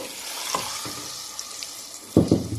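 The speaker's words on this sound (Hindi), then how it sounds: "तकरीबन 10 मिनट से मैं इसको भून रही हूँ" Mutton sizzles as it is roasted in a handi, a soft frying crackle with a few stirring scrapes and a louder burst of sizzling near the end.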